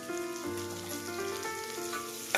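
Dal fries in a pan with a soft, even sizzle, quiet and steady, under faint sustained tones and a small clink at the end.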